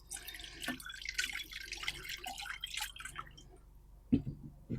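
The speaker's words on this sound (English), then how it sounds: "I'm going to pour out the water and just remove any of these floating seeds" Water poured out of a container of soaked cucumber seeds, faint dribbling and splashing with a few drips and a louder splash near the end.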